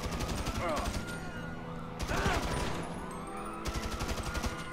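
Police gunfire in GTA 5: dense, continuous rattling bursts of game gunshots, loud and near, running under a busy mix of other game sounds with no pauses.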